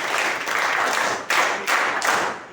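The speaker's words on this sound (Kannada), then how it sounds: "ಕೌಶಿಕ್ ಒಂದು ಚಪ್ಪಾಳೆ ಬರಲಿ" A classroom of children claps for a student, a loud close burst of rapid clapping that surges in a few waves, with no talk over it.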